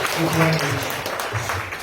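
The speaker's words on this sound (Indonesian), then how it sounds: "Sekali lagi beri kita tepuk tangan yang paling meriah" A church congregation applauds at a Sunday service, a steady wash of clapping across the whole stretch with voices and tones layered over it.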